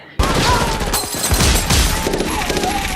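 Gunfire from the 1994 film The Mask as the bad guys are shot: a sudden loud burst of rapid shots crackling on for a few seconds, dense and echoing.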